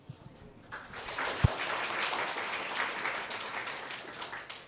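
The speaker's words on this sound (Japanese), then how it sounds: "拍手でお迎えください。" Audience applause welcomes a speaker at a Python conference talk on Japanese text generation, a dense, steady wash of many hands clapping that starts after a brief pause and continues strongly without speech.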